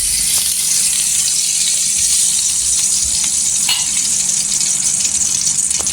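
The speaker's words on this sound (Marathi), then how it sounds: "इथे गॅसवर कढई ठेवलेली आहे त्याच्यामध्ये आपण घी टाकायचं" Ghee heating in a kadhai on a gas stove gives a loud, continuous close sizzle and crackle, with a few faint clicks underneath and no talking.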